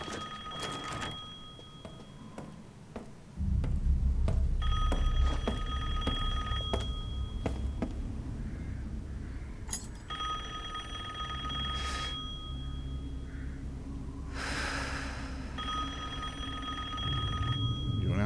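Telephone bell ringing in the survival horror game Resident Evil Village, a steady repeating ring in bursts over a low rumbling ambient drone, fairly loud and clear with no talk.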